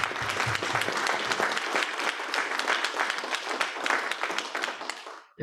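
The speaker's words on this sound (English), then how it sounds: "Let's get that as a round of applause." A room full of people at a bonsai demonstration gives a lively round of applause, with dense, bright clapping that holds steady and then cuts off abruptly near the end.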